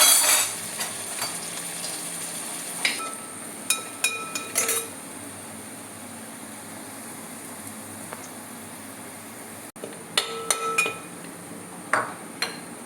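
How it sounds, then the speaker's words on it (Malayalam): Sliced onions with salt are sautéed in a pan, giving a soft steady sizzle under sharp clinks and scrapes of a utensil stirring against the pan, in irregular clusters with quiet gaps. "നമുക്ക് സവാള ഇട്ട് വഴറ്റാം."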